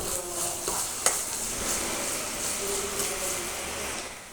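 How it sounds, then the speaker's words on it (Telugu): Ginger garlic paste fries with onions and green chillies in a pan, giving a soft, steady sizzle with a few light stirring scrapes and one sharp clink near the start. "ఇప్పుడు దీంట్లో కొంచెం జింజర్ గార్లిక్ పేస్ట్ యాడ్ చేసుకొని కలిపేసుకొని ఒక 2 మినిట్స్ ఫ్రై"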